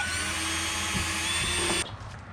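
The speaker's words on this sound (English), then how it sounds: "I can take and drill my little holes for my other screws" Power drill boring screw holes into a Hobie Pro Angler kayak, one steady high whine for nearly two seconds that stops abruptly, leaving quiet room tone.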